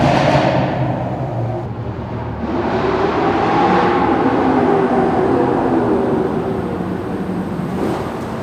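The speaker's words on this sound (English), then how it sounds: "we enjoyed the sound of our engines in the tunnel" Sports car engines rumbling and droning inside a road tunnel in Romania, a loud sustained reverberant roar that swells as cars pass and fades near the end.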